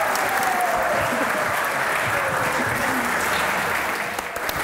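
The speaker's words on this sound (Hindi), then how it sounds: "तालियां बजती रहनी चाहिए।" A TV comedy show studio audience applauds to welcome guests, a loud, thick and continuous burst of clapping that stays strong and tapers slightly at the end, with faint voices underneath.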